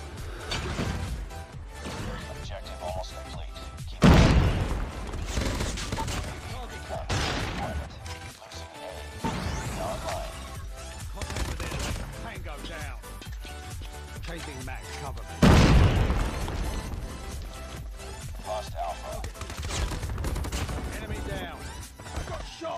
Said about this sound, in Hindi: बहुत प्री फायरिंग कर रहे हैं ये लड़के